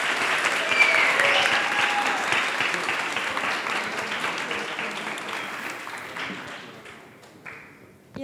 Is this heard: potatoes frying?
no